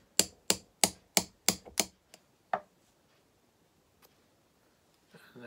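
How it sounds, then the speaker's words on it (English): Small brass hammer drives a pin out of an ATI Road Agent gun with about seven sharp, evenly spaced metallic taps, then two slower final strikes and a faint knock. "I'm going to take this pin and my little brass hammer. I'm going to drive that pin out"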